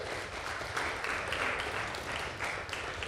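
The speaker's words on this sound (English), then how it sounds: "Can we just one more round of applause for all of our faculty and student presenters?" An audience gives a round of applause for faculty and student presenters at a college teaching showcase, with light, sustained clapping that swells and fades without talk.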